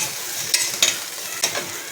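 Muthiya ingredients with fresh green coriander being stirred and mixed in a pan, a continuous soft sizzle punctuated by three quick scraping strokes of a spoon, close up with no voices.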